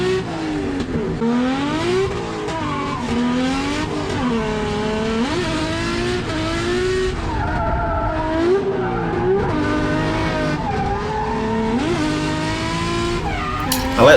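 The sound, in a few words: car engine and tyres during motorsport practice run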